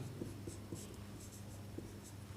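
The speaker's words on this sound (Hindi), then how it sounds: "हल यहाँ लिखेंगे" Pen or chalk writing out the working of a class 10 maths age problem, soft scratchy strokes in short bursts, close and fairly quiet over a low steady hum.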